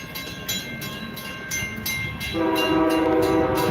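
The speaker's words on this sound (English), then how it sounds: "I wonder how often these trains come through." A train rumbles past steadily with a high, ringing horn-like tone and growing rumble, fairly loud and continuous without talking.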